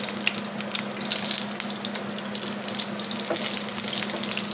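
Eggs fry in a pan with a constant close crackling sizzle and a faint low hum beneath it, unbroken for the whole stretch with no one speaking.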